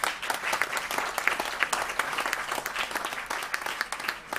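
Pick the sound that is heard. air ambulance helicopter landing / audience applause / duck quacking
audience applause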